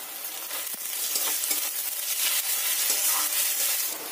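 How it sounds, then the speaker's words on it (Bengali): Onion and garlic paste fries in a pan with a steady, close sizzle and soft stirring scrapes, continuous and alone. "রসুনটা পেঁয়াজের সঙ্গে খুব ভালো করে ভাজা হয়ে গেছে"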